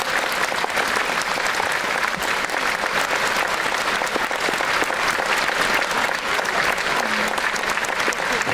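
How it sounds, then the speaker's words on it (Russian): Concert hall audience at an anniversary performance of a song and dance ensemble giving sustained, dense applause as a choirmaster is invited to the stage, even and loud throughout. "Аплодисменты, друзья!"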